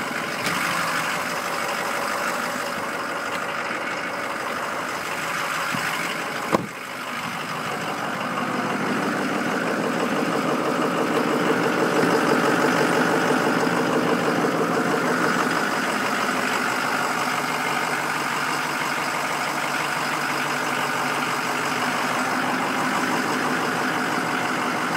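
The diesel engine of a 2008 Ford E-450 Super Duty box truck idles with a steady, close rumble. One brief thump sounds early on, then the idle continues unbroken for the rest of the stretch.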